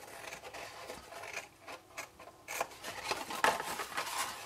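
A knife trims a scored piece off a chalk marker cube, producing soft rubbing and scraping strokes in irregular bursts, close and quiet with no talking.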